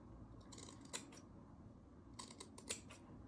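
Scissors snip the corner seam allowances of a sewn fabric garment, giving a few quiet, crisp, separate cuts in two clusters, close by and with no talking.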